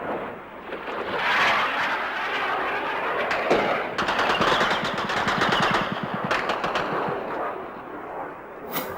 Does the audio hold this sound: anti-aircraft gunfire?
yes